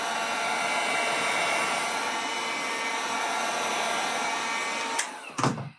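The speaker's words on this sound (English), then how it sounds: "I'm gonna grab my heat gun." A heat gun blows a steady, loud airy roar while warming a Darkside Studios wrap on a Streamline RC Thrasher jet boat, then is shut off, followed by a couple of handling thumps.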